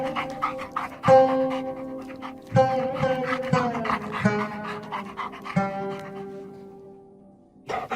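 A dog pants rapidly and steadily up close, with a few short whimpering tones and occasional thumps mixed in.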